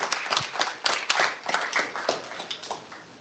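A small audience at a healthcare symposium claps for a presenter, a sparse scatter of individual hand claps heard close by, irregular and tapering off after a few seconds.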